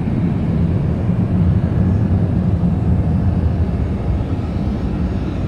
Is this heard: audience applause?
no